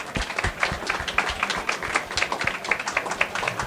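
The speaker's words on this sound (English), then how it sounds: "let's give our panelists a big round of applause" A small audience at a panel on startups hiring staff in Japan claps for the panelists, with a patter of distinct, close-sounding hand claps at a steady pace.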